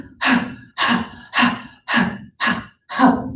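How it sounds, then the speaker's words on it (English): Kids doing a deep breathing exercise during a yoga session, with six forceful, evenly spaced exhalations close to the mic, each a loud breathy rush followed by a short quiet inhale. "We like to do lots of different kinds of breathing, and that one is supposed to help clear out your head and clear out your lungs"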